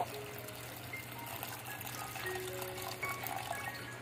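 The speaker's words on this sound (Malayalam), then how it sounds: "നമ്മുടെ കടല ഒന്ന് വേവാൻ ആവശ്യമായിട്ടുള്ള വെള്ളവും കൂടി ഒന്ന് ഇതിലേക്ക് ചേർത്ത് കൊടുക്കാം" Water pours steadily into a pot of chickpeas being cooked for curry, a continuous gushing, splashing flow that stays even throughout.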